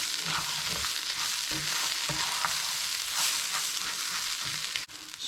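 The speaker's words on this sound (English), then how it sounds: "I'm going to stir that through just for another minute or 2." Grated ginger stirred through in a frying pan for Chinese-style chicken rice, with loud, dense, continuous sizzling and regular scraping strokes running the whole way through, close up.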